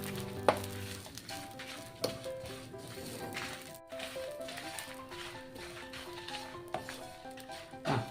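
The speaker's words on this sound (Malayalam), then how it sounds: "കുറച്ച് ഉള്ളി, കുറച്ച് കറിവേപ്പില നമുക്ക് നന്നായിട്ട് മൂപ്പിച്ചെടുക്കാം." Onion and curry leaves frying in a pan for a Kerala-style snake gourd dish, a steady close sizzle with spoon scrapes and stirring knocks, under a faint tonal hum.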